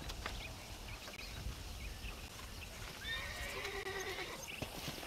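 Horses in Red Dead Redemption on a ranch, neighing and whinnying with hooves clip-clopping nearby, under ambient outdoor noise and occasional faint voices.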